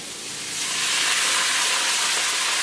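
Water splashed into a hot pan of sweet potato noodles sets off a loud, steady hissing of steam that swells in the first second and holds evenly throughout, with no talking.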